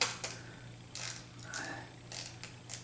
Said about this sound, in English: while I loosen the hose clamp